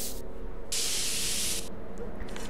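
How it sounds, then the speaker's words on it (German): Spray paint hisses onto a wooden board in a Back to the Future video game, one loud burst of about a second over a steady background hum. "Nutze Jennifer Sprühfarbe auf dem Holzbrett."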